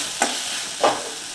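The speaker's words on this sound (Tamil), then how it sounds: "நல்லா கிண்டிக்கோங்க" Crab rasam with pepper and cumin being stirred in a pot, two short scraping stirs with a faint sizzle between them, close and clear.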